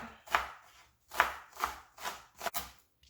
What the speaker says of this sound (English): we are cutting up this onion